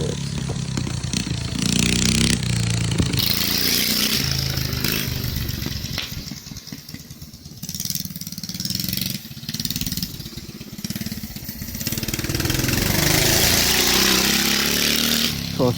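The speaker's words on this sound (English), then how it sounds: "Today we're racing this 212 minibike. It rips." A 212 minibike engine races close by, its loud, raspy revs rising and falling as the throttle opens and backs off through the run.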